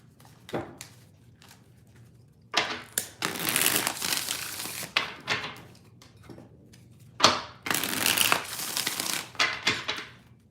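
Tarot cards being shuffled by hand in two long riffling bursts with scattered taps and shuffles between, close and fairly loud, no talking.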